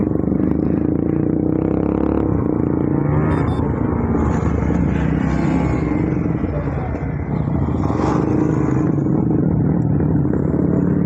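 A Yamaha MT and a Suzuki Gixxer race at over 130 km/h on the Kalyani Expressway. Loud, continuous engine roar is heavily masked by rushing wind buffeting throughout.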